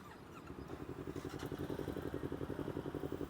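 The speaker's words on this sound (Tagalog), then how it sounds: "Dumadami na yung mga motor." Motorcycles from a cafe racer group rumble at a distance, their engines giving a soft, steady pulsing drone that builds slightly, faint and low with no speech.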